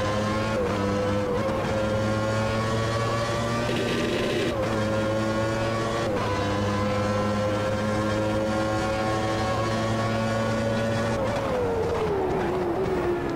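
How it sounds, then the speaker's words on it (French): Race car on the Monza circuit in Automobilista 2, its engine note sustained high then dropping in pitch near the end under heavy braking, loud and continuous with no voices. "gros gros freinage ici"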